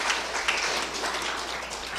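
Church congregation at a women's mission dedication service applauding together, a steady dense wash of many hands clapping, moderately loud and sustained without voices.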